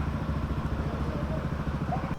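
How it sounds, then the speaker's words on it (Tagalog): A Honda ADV150 adventure scooter idles while warming up, its engine throbbing in an even, close, steady rhythm with no voices. "Nagpapainit lang ng motor."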